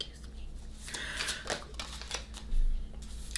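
Tarot cards are shuffled up close, giving soft riffling and sliding bursts with light flicks and taps, quiet and continuous.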